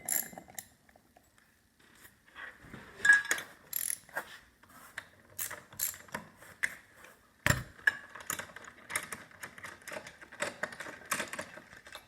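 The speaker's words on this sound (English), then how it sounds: "Use your 7/16 ratchet and socket." A 7/16 ratchet and socket removing bolts while a candleholder art sculpture is assembled, giving close, irregular clicking pawl bursts and metallic taps with short pauses, and one sharper knock midway.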